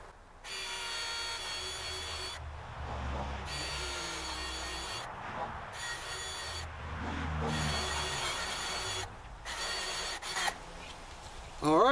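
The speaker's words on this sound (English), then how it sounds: "let's drill a couple holes in here for the zip ties" A power drill bores holes for zip ties while a chicken tractor is being built, in repeated whining bursts of a few seconds each with short pauses between them, close and clear.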